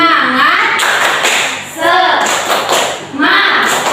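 An Indonesian primary school class performs a rhythmic clapping chant, bursts of children's voices chanting in unison alongside sharp hand claps in a lively beat.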